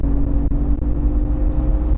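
A Jeep Cherokee XJ with the 4-liter engine and AW4 four-speed automatic under full throttle: a loud, steady low engine drone heard from inside the cab, with a constant rumble through the whole stretch.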